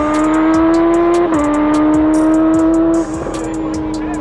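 A Kawasaki ZX-14R motorcycle engine roars loudly at full throttle, holding a strong high-pitched tone with a quick shift drop midway and easing off near the end.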